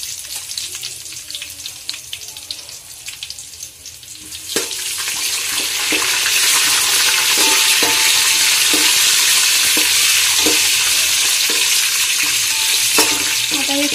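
Cumin seeds and bay leaf sizzling in hot oil on a lowered gas flame for dhaba-style mix veg Kolhapuri, a quieter crackle that swells into a loud, dense sizzle with sharp spatula clicks.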